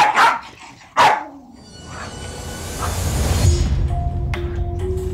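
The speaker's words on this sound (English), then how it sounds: "she'll growl at me, or she'll show her teeth, or she'll bark and spin" A rescued dog gives two sharp, loud barks close by, followed by quieter whimpering and rising background noise with a few faint tonal beeps.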